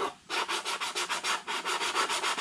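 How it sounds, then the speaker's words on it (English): Rhythmic back-and-forth sanding of a wooden slot by hand, about a dozen quick even rasping strokes after a brief pause, close and clear with no talking. "do a little bit of sanding on that slot."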